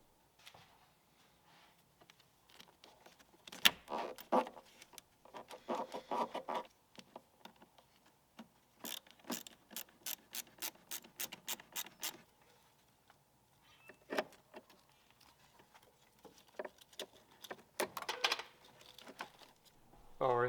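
Car battery terminal clamps are fitted and tightened during a battery change, producing close sharp metallic clicks and ratcheting bursts spread across a quiet background.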